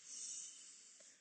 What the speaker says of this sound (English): if we find a pattern that's in the nose and out the mouth